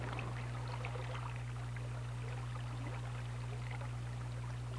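River water rushing steadily at moderate distance, a soft continuous wash and trickle under a strong low steady hum, with no voices.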